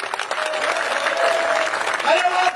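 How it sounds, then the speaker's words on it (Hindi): A crowd at a political election rally in Dabra claps in a dense burst of applause that keeps going, mixed with shouting and a loud amplified voice. "अरे डबरा की ताली,"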